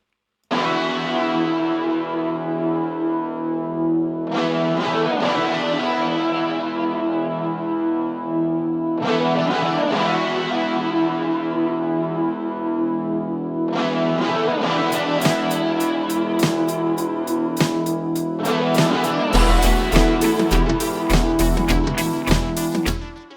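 A distorted rock intro built with analogue synths in Ableton, heavy effects, swelling sustained chords repeating in waves, then drums kicking in and building toward a full band.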